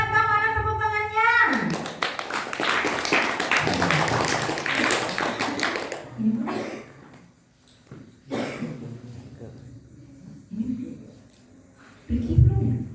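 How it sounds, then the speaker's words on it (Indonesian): Clapping for a contestant at a children's Ramadan quiz competition, a short burst of group hand claps after some talk, then more scattered speech and a few isolated thumps. "Kamu ada tepuk tangannya."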